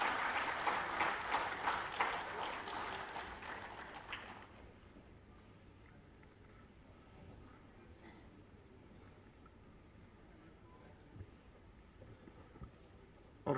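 An audience at a state-level Wildlife Week celebration bursts into dense applause for about four seconds, then it stops sharply and a quiet room hum remains.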